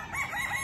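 A gamecock on a gamefowl farm gives a brief crowing fragment, close and moderately loud, with a rough, wavering call and no other voices.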